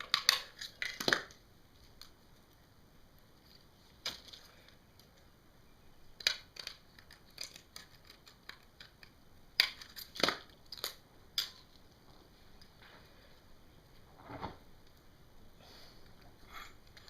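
Scissors snip through a small piece of a cup, giving scattered crisp crunching cuts and clicks in separate bursts, with quiet stretches between them.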